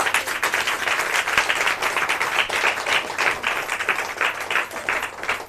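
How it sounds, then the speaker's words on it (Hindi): Church congregation at a Hindi worship service clapping loudly in thanks to God; dense, sustained applause filling the room for several seconds with no talk. "हम ईश्वर को तेज से ताली बजा के धन्यवाद देंगे"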